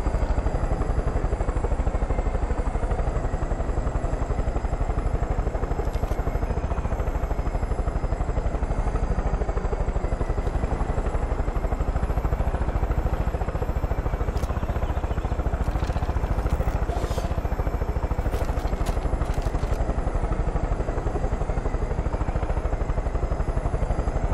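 A helicopter in the video game Far Cry 5 flies and comes in to land, its loud, continuous rotor and engine drone unbroken throughout, with faint clatter near the end and no speech.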